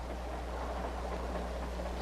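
Steady low rumble of a moving non-stop passenger train, a continuous even drone with no breaks and no talking.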